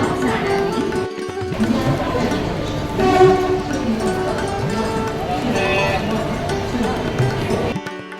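A local commuter train on the Lonavala to Pune line rumbles steadily at a station for several seconds, with a brief horn-like tone, broad rail noise and people talking over it.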